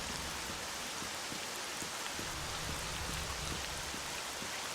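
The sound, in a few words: rain in the video game STALKER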